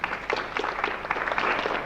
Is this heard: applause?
yes